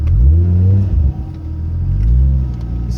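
Mazda RX7 with a 1JZ engine swap and a new Precision 6266 turbo revs hard nearby, a loud deep engine roar climbing in pitch, breaking off briefly after a shift, then pulling again.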